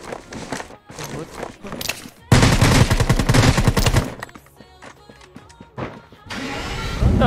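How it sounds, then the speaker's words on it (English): Rapid bursts of gunfire in Rules of Survival crackle in loud clusters, with sustained automatic fire in the middle, mixed with game effects and voices talking. "Gunshot dito."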